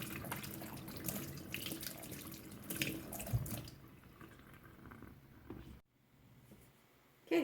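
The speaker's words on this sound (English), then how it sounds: "And then we're going to wash our bananas too." Bananas are washed under a running kitchen tap, with water streaming and splashing in a sink nearby before it eases to a quieter trickle and a brief clatter at the end; no one speaks.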